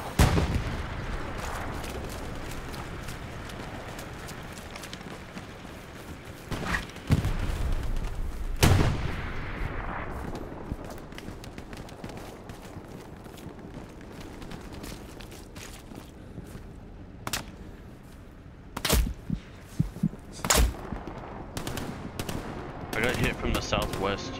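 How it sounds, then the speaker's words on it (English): Scattered gunshots crack out in the video game Hell Let Loose, single sharp reports and short bursts at varying distances, over a low rumbling background. "hearing a lot of enemy gunfire from that location"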